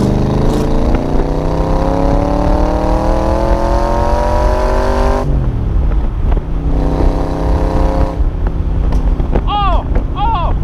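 An AC Cobra Shelby 302 hp V8 roars loud and close while driving, revving up steadily through a gear, a shift, then pulling again with wind rush throughout; a brief voice exclamation appears near the end.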